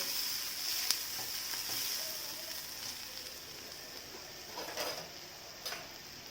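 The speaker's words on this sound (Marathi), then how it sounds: "कांदा छान असा असा लालसर भाजत आलेला" Chopped onions frying in a pan until reddish, a steady soft sizzle running throughout, with a few faint scrapes and a brief louder crackle near the end.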